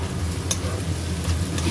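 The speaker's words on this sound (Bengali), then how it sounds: "পেঁয়াজটা দিয়ে একটু ভালো করে ভেজে নেব।" Onion frying lightly in a pan gives a steady close sizzle while a utensil stirs it, with a few faint scraping clicks over the continuous hiss and no talking.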